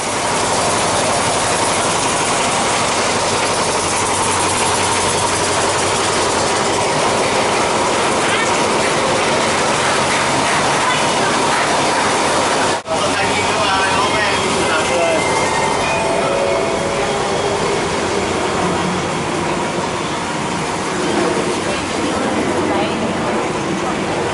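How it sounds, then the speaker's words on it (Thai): Bang Khen railway station in Bangkok at night: a loud, continuous rumble of a train with mechanical clatter and a voice in the background, steady throughout. "นี่ก็สถานีรถไฟบางเขนนะครับ บรรยากาศช่วงกลางคืน"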